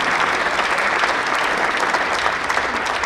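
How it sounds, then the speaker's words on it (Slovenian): At a Slovenian Army sports awards ceremony, an audience applauds the army and a family in a dense, steady burst of clapping that holds at an even level throughout. "En aplavz za Slovensko vojsko in družino."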